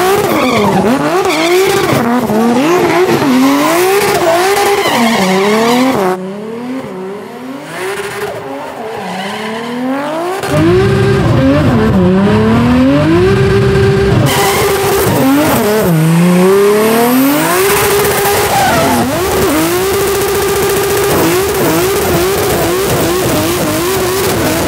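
An 850 hp 2JZ-swapped NASCAR car without power steering doing donuts, engine loud and near, revving up and down in waves over long continuous tire squeal, with a brief lull mid-way before it roars and screeches again.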